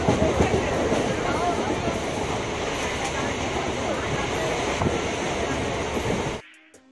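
Inside a moving Kolkata commuter train, a steady loud rumble of wheels and carriage fills the space with faint rattles, then it cuts off abruptly near the end.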